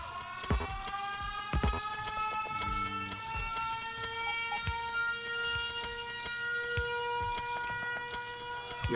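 Factorio's low-power warning alarm sounds as a sustained tonal drone throughout a video game scene, mixed with scattered clicks and in-game mechanical sounds.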